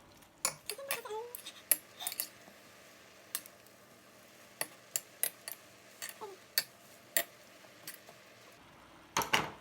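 Japchae noodles stirred in a large frying pan, with quiet scattered clinks and scrapes of a utensil against the pan over soft sizzling, in irregular sharp taps and no talk.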